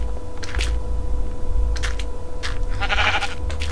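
A sheep in Minecraft bleats in a few short cries over a steady background hum, with keyboard clicking nearby and no talk.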